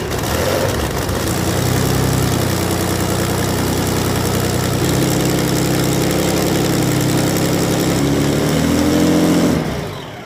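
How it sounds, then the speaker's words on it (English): The engine of the 1973 Pay'n Pak hydroplane racing boat fires up and runs loud and close, a rough, throbbing roar with wavering pitch that holds for several seconds before cutting off abruptly. "They're going to start up the engine. It's going to be loud."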